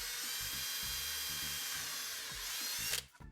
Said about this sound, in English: drill halfway through the plexiglass, allowing the small tip to exit the other side